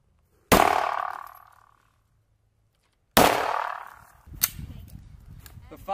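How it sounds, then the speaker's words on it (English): A Sig Sauer M17 pistol fired during marksmanship training at an outdoor range in Pordenone, Italy: two loud, sharp reports about two and a half seconds apart, each ringing out and decaying, followed by faint clatter and rumble. "engages a pop-up targets with an M17 pistol during the marksmanship training"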